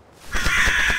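A crow caws in a jungle setting within a camping video game, one harsh drawn-out call that rises out of quiet and stays loud and close.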